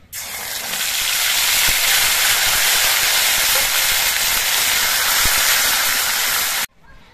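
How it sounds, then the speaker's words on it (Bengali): Ground spice paste dropped into hot oil already frying bay leaf, dried chilli and cumin, bursting into a loud, continuous sizzling hiss that runs steadily for several seconds and then cuts off abruptly. "এবার এর মধ্যে আমি বাটা মশলাটা দিয়ে দিচ্ছি।"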